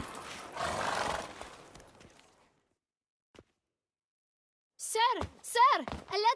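Hooves of the horse Roach in The Witcher 3: Blood and Wine, a rustling clop slowing to a stop, then silence before a loud whinny and snorts at the end, with no talk over the animal.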